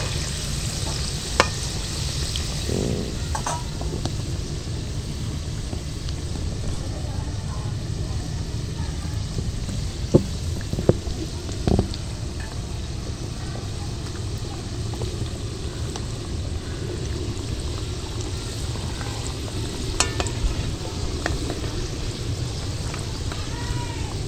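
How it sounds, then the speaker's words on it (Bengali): Raw potato pieces fry in oil over medium-low heat, a constant close sizzle like light rain, broken by occasional sharp clicks of stirring. "দেখো এগুলো কিন্তু তেলের মধ্যে আস্তে আস্তে ভাজা হবে।"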